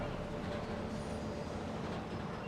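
A train rumbles past in Marvel's Spider-Man, a steady low roar with a faint wheel squeal, fairly quiet, and a voice talks briefly over it.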